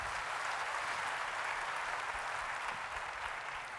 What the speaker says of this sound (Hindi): मिस्टर रेक्स मॉन, एक बार उनके लिए जोरदार तालियां होनी चाहिए